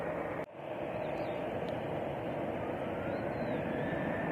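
An airliner from Brussels rumbles as a broad, steady roar at Alicante airport at sundown, a thin whine faintly above it, heard at a moderate distance after a brief knock at the start.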